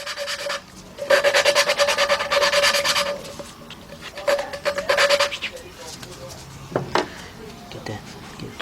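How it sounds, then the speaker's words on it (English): Hand lapping an engine valve into its seat during a 3.7 Jeep Liberty rebuild gives rhythmic gritty rasping and rubbing in several close bursts, with quieter scraping between them. "you're grinding that valve right in there. That's what's called valve lapping."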